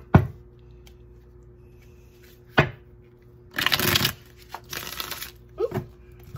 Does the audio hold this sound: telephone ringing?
no